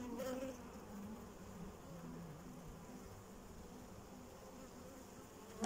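Honeybees buzzing at an open beehive during a frame inspection, a dense steady drone of many bees close by, continuous and even throughout with no talk.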